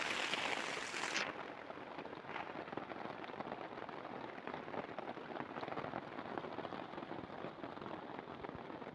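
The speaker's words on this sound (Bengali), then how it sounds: "আর বাইরেও বৃষ্টি এসে গেছে" Steady rain pours down outdoors, a dense even hiss of drops hitting surfaces that continues without pause.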